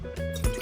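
Fish sauce pours into a Thai salad dressing of lime juice and sugar for a spicy asparagus salad. The liquid splashes and trickles close by in a short burst.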